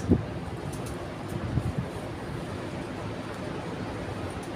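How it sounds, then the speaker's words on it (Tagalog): Steady broadband wind roar buffets the microphone throughout, with a few low gusty thumps near the start and no voices. "Lakas ng hangin, ano?"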